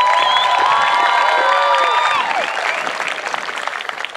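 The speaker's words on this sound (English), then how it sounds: "Why don't you give yourself a round of applause." A crowd on the parade field at an Air Force Basic Military Training graduation parade breaks into loud applause with cheers and whoops, which gradually tapers off.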